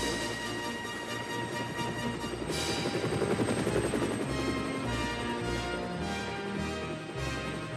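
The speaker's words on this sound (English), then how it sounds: "Harold the helicopter" Harold the helicopter lifts off in the video game Sodor Online. The rotor chop is loud and steady, then swells and grows brighter partway through before holding at a strong, continuous level.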